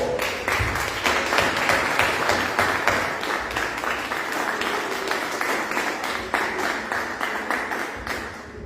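Loud, sustained applause from a church congregation, dense clapping that continues evenly throughout.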